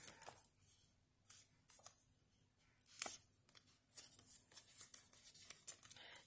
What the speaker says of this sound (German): Da klebe ich das noch auf, schneide es zu und klebe das hier unten hin.